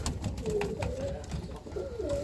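Roller pigeons coo in a loft, a continuous low throaty burbling from several birds close by with a few brief higher tonal notes, steady throughout with no one talking.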